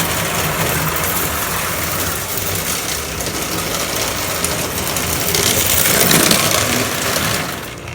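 A Jesse James General 4-4-0 model train runs a loop around its track, giving a continuous close whirring and rattling hum that swells slightly toward the end.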